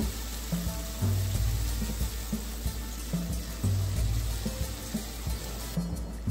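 Onion and tomato frying in a pan, softening with a little salt: a steady soft sizzle runs throughout, close and fairly quiet, with no talking.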